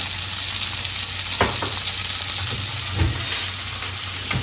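Onions fry in a pan for a homemade country chicken curry, a loud continuous sizzle with a few sharp scraping stirs of a spoon against the pan and no voices.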